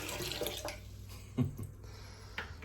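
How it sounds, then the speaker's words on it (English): Water from a camper tap pours into a bucket, a faint steady rush with a low hum underneath and a few louder splashes and knocks, all at a distance. "I can fill up my buckets from the camper."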